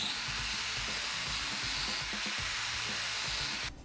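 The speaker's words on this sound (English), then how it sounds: "Come back, grind off a little bit more." A power grinder works steadily on a metal bike frame part for a kids bike, a continuous close hissing, rubbing whine with slight scraping variations that cuts off abruptly at the end.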